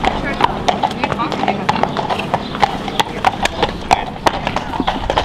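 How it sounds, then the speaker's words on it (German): A horse ridden outdoors clip-clops in a steady, even hoof rhythm, close and clear throughout. A person talks over it. "Wir reiten heute draußen."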